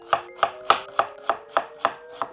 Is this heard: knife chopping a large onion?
yes